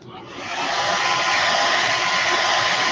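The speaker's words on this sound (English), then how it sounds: "I'll just use the hair dryer." A hair dryer blows on a freshly painted Brad's Super Bait cut plug fishing lure, spinning up quickly and then holding a loud, steady airy whoosh for the rest of the moment, with no talking.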